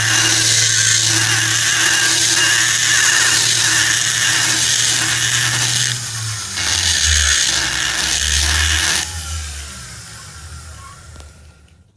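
A flexi drive spinning a carbide cutter while porting a Mini cylinder head, a loud, steady high-pitched whine with grinding chatter as the cutter bites the metal, shifting pitch midway before winding down near the end.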